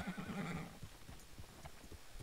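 A horse in the Red Dead Online video game gives a short whinny, followed by soft, rhythmic hoof clip-clops; the whole exchange is quiet and heard without speech.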